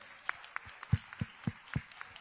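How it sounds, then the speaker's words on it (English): A small handful of people clap at a music and creative skills talk, producing sparse, fairly regular claps that sound thin and somewhat distant rather than a full ovation. "Give her a round of applause, please."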